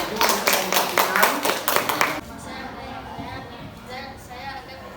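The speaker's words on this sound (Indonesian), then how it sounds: "beri tepuk tangannya dulu untuk kawan kita yang sudah maju mempresentasikan" Junior high school classmates in a classroom clap together for a presenting student, a couple of seconds of lively, slightly uneven hand clapping that stops abruptly, followed by quiet room chatter and talk.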